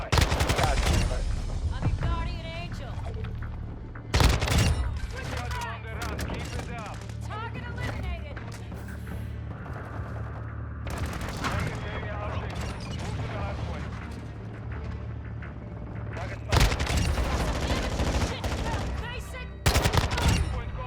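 Kastov 74u rifle fire in Call of Duty: Modern Warfare II: several loud rapid bursts of automatic gunfire separated by quieter stretches of game sounds, with someone talking throughout.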